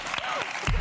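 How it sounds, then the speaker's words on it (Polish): Studio audience applauding on a Polish TV talk show, a brief burst of clapping with some voices mixed in, swelling louder toward the end. "wielkie brawa."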